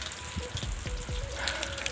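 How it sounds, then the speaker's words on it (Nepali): Rain falls steadily with scattered drops and light trickling water, a continuous soft patter at moderate distance, without voices. "हाम्रो ठाउँमा पानी परेर निदी भइरहेको छ"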